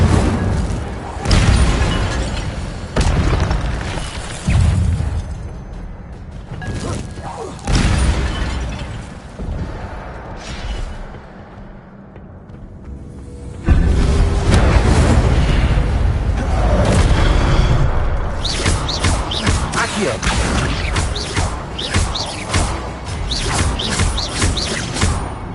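Incendio fire spells cast repeatedly in Hogwarts Legacy, giving loud crackling bursts and booms in quick succession with a brief lull in the middle, then a dense stretch of blasts.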